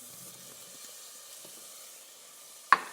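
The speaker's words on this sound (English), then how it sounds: "we are going to allow this to saute for a few minutes" Chopped onions sautéing in butter in a pot give a faint, steady low sizzle, ending with a sharp, louder clatter near the end.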